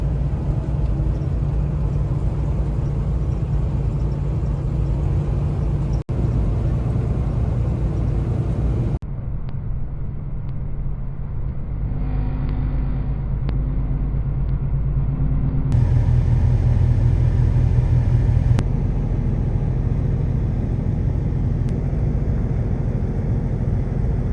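A semi truck hauling a load of bricks drives on a highway at about 60 mph in 1°F cold, its engine and road noise a steady loud low rumble throughout with no talking.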